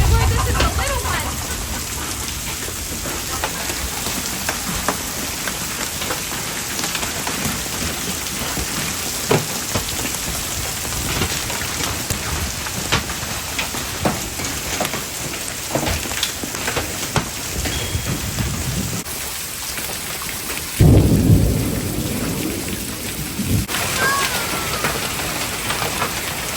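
A farm hailstorm with golf-ball-size hail, heavy rain and thunder pounds down as a dense, loud, steady roar of impacts for the whole stretch, with a deeper thump-like rumble surging near the end and faint voices underneath.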